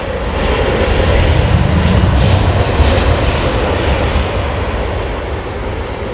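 An aircraft lands at London Heathrow Airport in a crosswind, a loud, dense engine roar that swells and holds for several seconds before gradually thinning out.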